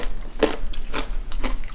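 Bites and chews of a crunchy vegan stew, close and clear, with several distinct crunching bites spaced through a short stretch and no talking.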